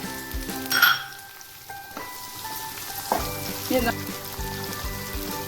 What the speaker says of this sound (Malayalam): അരിഞ്ഞു വെച്ചിരിക്കുന്ന സവാള ചേർത്ത് കൊടുക്കാം